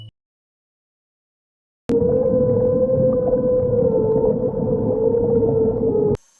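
The Julia underwater recording plays alone: one sustained, wavering tonal moan about four seconds long, rising slightly and then fading, with a dense low rumble underneath and abrupt starts and stops.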